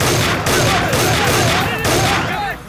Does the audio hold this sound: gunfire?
yes